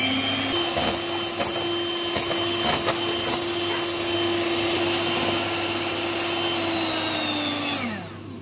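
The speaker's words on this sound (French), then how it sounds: "Je vais essayer de la monter en chantier à l'aide d'un batteur électrique." An electric hand mixer whips cold chocolate ganache, a steady high motor whine running unbroken and loud for several seconds before winding down at the end.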